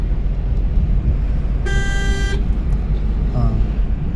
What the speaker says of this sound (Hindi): हॉर्न दूं क्या?